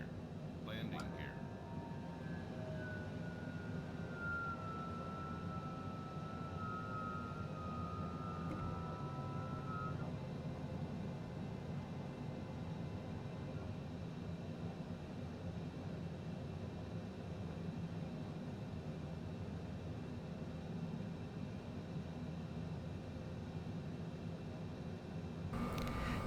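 Airplane in a flight simulator game lands on sand up a hill, a faint steady engine drone with a falling tonal whine early on, heard quietly and close throughout.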